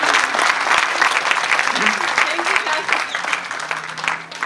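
A crowd at an annual school day function claps steadily and loudly for a daughter, dense applause that holds for the whole stretch and eases slightly toward the end, with some voices mixed in.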